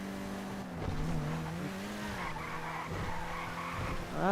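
A car drifts in the video game GTA V Online, its tires skidding and squealing in long wavering whines over a steady engine drone, rising toward the end.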